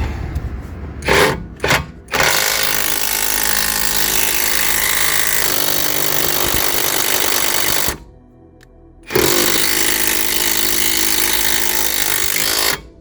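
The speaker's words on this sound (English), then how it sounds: "Try the impact gun and see what happens." Pneumatic impact gun hammering loudly on a wheel or lowering-spring bolt of a Citroen C1, a sustained harsh rattling burst, a short pause, then a second long burst, close up with no talk.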